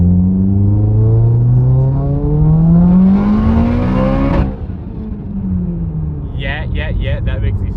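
Mitsubishi Evo engine revving up through the gears, a loud rising whine that climbs steadily before a shift cuts it off, then the note builds again while a voice talks over it near the end.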